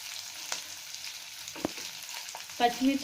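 Green chillies frying in a pan of seasoning for curd rice, a steady soft sizzle with occasional spoon scrapes and a brief louder stir near the end, close and without talk.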